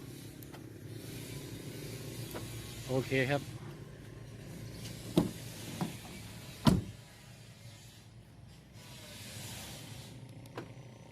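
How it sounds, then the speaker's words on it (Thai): Door locks on a Ford car clack as the remote key fob is pressed, several short mechanical clunks and a brief whirring actuator spread out over quiet outdoor background, with someone briefly speaking. "เดี๋ยวเราไปลองกดล็อกกดเปิด รถยนต์ดูนะครับ"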